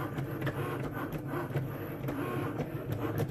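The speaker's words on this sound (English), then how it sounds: "just cutting craft board right now, which I think most of the machines on the market could do" A Cricut Maker electronic cutting machine slices craft board with a steady, close mechanical whirr and rapid rhythmic ticking pulses, with no talking.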